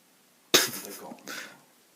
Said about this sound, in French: Vas-y, je te filme en train de souffler.